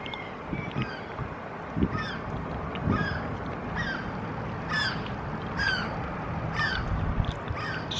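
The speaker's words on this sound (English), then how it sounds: "It's a seagull." A seagull calls repeatedly, a series of harsh honking cries at a steady pace against a noisy outdoor background.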